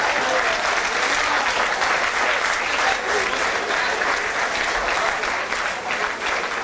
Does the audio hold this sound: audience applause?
yes